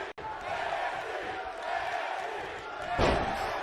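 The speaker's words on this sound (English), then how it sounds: "I don't know if you can hear them, but they're chanting JJI, JJI" A wrestling crowd at a JJI show chants a rhythmic name in unison, a steady roar of many voices with a louder swell near the end.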